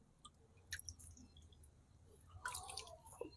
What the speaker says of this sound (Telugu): ఇప్పుడైతే మనము జస్ట్ వాటర్ అనేది ఇలా చేతితో చిలకరించాలి.